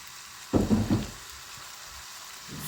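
Chicken pieces drop into hot oil in a pan, giving a sudden loud burst of sizzling that quickly fades to a faint hiss, with a small flare near the end.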